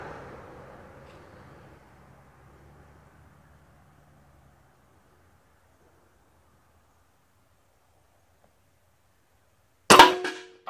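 A single sharp crack of an airgun firing a .357 caliber 120 grain steel core pellet, loud and abrupt after a long stretch of near silence following a fading low rumble.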